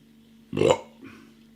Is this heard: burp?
yes